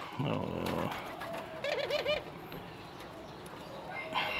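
Pet pigeons coo in short repeated bursts at feeding time in a backyard pen kept with chickens and rabbits, near and clear, alongside a brief rustle and some faint background noise.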